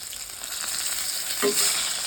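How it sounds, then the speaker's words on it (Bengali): Fish frying in a pan, a steady bright sizzle throughout with a brief louder flare of spattering near the end, close and alone without voices. "চলো মাছ ভাজা হয়ে গেছে"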